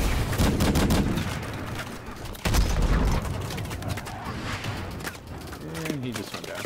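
Rapid bursts of gunfire and explosions from a Call of Duty Advanced Warfare battle, loud and dense throughout, with a heavy boom partway and a voice talking over the fighting.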